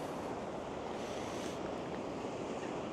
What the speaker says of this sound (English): the waves are kind of strong